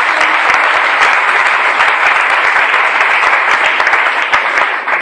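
A church congregation applauds in a dense, loud, continuous burst of clapping that fills the room throughout.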